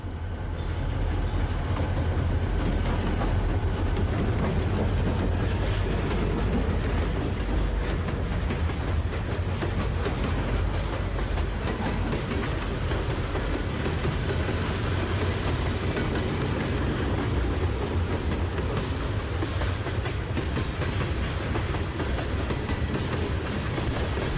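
Norfolk Southern freight locomotives and cars roll past on the Lehigh Line near Union Township, a loud, continuous rumble with steady wheel clatter throughout.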